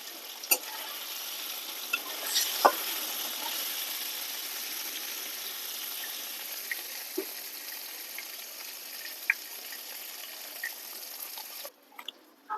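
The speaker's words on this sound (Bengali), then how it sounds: "পনিরটা বেশি ভাজবো না, অল্প ভাজবো।" Paneer fries in oil in a pan with a soft continuous sizzle and occasional light pops and stirring clicks, quiet and without talking.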